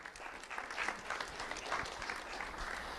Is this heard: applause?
yes